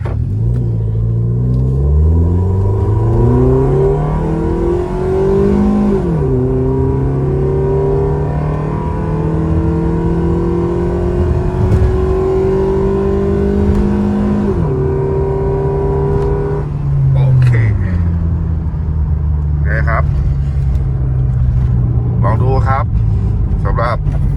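Remapped second-generation Toyota Vios running E85, with big injectors, enlarged throttle body, racing intake and full exhaust, accelerating hard; steady loud engine drone rises through several gears with pitch climbing and dropping at each shift, continuous and close.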